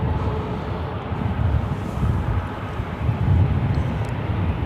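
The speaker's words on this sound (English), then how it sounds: "You're looking at Southwest Airlines flight 5934." A Southwest Airlines Boeing 737-800 airliner at LAX gives off a steady, loud, broadband engine roar that swells slightly and holds without break.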